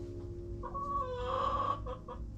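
Hens cluck and call around a newly replaced nesting box, a few close birds sounding over a steady low background hum, with one longer, louder squawking call in the middle.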